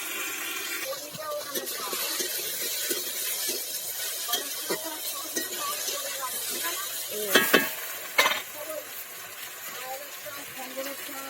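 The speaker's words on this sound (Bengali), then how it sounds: "এভাবে ঢাকা না দিয়ে কিছুক্ষণ ভেজে নিতে হবে" Okra and potatoes fry uncovered in a pan, giving a steady sizzle with occasional stirring clinks and two sharper scrapes near the end, and a voice speaks over the cooking.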